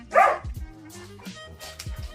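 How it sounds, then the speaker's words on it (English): A dog gives one loud bark up close, followed by softer whimpers and yips from more than one dog. "I do apologise if you can hear the dogs in the background"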